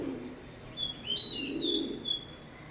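Oman bloodline teddy pigeons coo softly and intermittently at close range, with a few thin high chirps over a quiet background.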